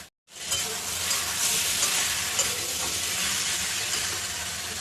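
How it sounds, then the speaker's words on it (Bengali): Taro stolons (kochur loti) stirred and fried dry in a pan, a loud continuous close sizzle and hiss with faint scraping of the stirring utensil throughout, with no voices. "এটাকে নাড়িয়ে চাড়িয়ে ভালো করে মিক্স করে দিতে হবে।"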